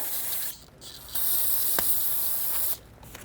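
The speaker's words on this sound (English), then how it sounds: "Take a little carb clean and just spray it." A steady, loud hiss of carburetor cleaner aerosol sprayed onto intake valves of a Volkswagen GTI MK7, in two long bursts, with a short pause between them and quiet gaps before and after.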